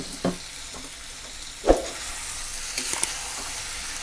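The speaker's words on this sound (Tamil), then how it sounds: "நம்ம ஏற்கனவே வதக்கி வச்ச வெண்டைக்காவை இதோட சேர்த்து ஒரு கலரலாம்." Prawns and okra stirred together in a frying pan for an eral vendakka kulambu, with soft scraping and a quiet sizzle, a few distinct spoon knocks punctuating the steady frying.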